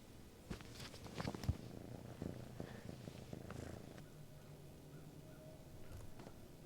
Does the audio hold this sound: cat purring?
yes